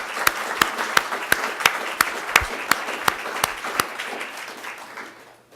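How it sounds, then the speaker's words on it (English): Rhythmic, evenly spaced hand claps from a conference audience, about a dozen loud slaps in a steady beat that fades out at the end. "and I think a round of applause."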